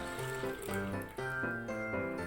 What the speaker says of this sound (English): Now pour this juice in the grinder